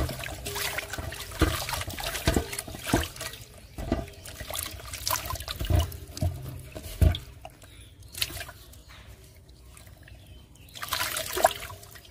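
Water runs and splashes as fresh river fish are washed for a light fish curry, close and uneven with irregular gushes, drips and clatters, no talk.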